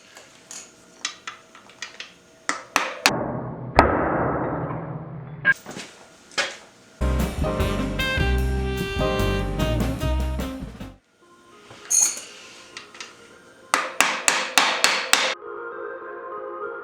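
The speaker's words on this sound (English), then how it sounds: "using this extension to tap out the axle on the opposite side" Metal taps ring out as an extension is hammered to drive out the front axle of a Yamaha YZ400 motorcycle: irregular, close, sharp strikes, sometimes single and sometimes in rapid clattering runs, separated by brief pauses.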